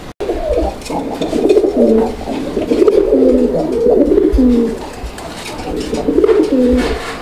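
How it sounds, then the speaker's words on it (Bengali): A pair of black Bombai pigeons coos close by in repeated, rolling phrases that run steadily through the whole stretch, with no talking. "এটা বোম্বাই, কালো বোম্বাইয়ের একটা জোড়া"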